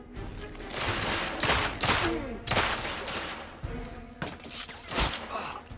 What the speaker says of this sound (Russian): По-моему, сбоку стреляют.